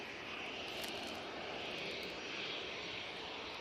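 An Aer Lingus Airbus A320 at Manchester Airport gives off a faint, steady distant engine roar and hiss that holds evenly with no speech over it.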